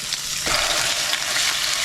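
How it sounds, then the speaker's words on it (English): Tofu dropped into hot avocado oil in a pan sets off a sudden bright sizzle that keeps frying steadily and evenly, up close and fairly loud, with no talking. "When the oil starts to ripple, I'm going to put in the tofu"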